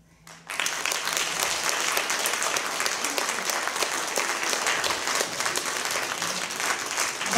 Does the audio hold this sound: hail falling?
no